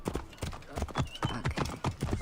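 A horse gallops in Assassin's Creed Origins, quick rhythmic hoofbeats drumming close and steady, with brief snorts mixed in.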